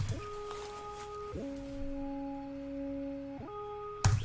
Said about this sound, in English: So I've got my counter melody right here.